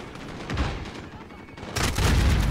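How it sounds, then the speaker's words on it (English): A grenade blast in a co-op shooter video game during a bank raid, a loud booming burst near the end amid dense scattered gunfire and rumbling, continuous and chaotic. "that's a grenade."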